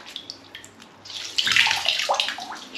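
Water sloshes and splashes in a filled bath as a magic sponge is dunked and wetted, close and busy bursts of splashing after a few quieter drips.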